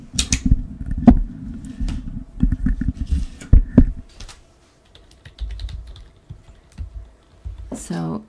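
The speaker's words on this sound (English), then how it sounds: "And then I'm going to type in a name." Typing a name on a computer keyboard, a run of close, clattering keystroke bursts in uneven rhythm that pause briefly and then resume, with faint background noise.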